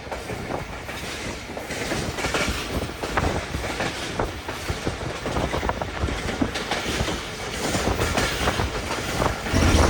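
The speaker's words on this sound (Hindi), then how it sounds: "रोशनियों के शहर में हमारी ट्रेन अंदर हो चुकी है" A Tezgam passenger train rolls into Karachi with a steady, loud rumble of wheels and carriages, rhythmic clickety-clack on the rails running throughout, with no voices.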